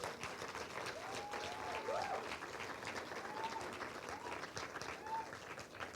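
An audience claps steadily for secondary school students at a national theatre festival awards ceremony in Antigua and Barbuda, sustained moderate applause with a few whoops and cheers rising above it.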